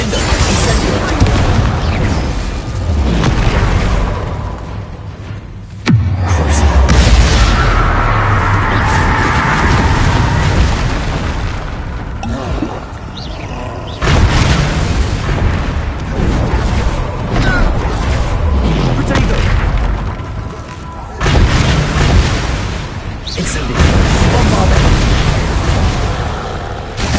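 Spell explosions from the Hogwarts Legacy video game during a fight with a troll: loud, repeated booming blasts and bursts that overlap one another in a dense, continuous barrage.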